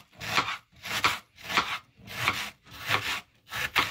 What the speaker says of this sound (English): So it's just roughly chopping them basically.